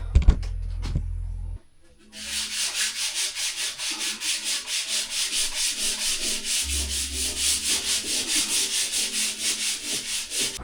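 After a few thuds and a brief pause, steady rhythmic scraping of hand sanding rust off metal on a boat, with quick back-and-forth strokes repeating evenly.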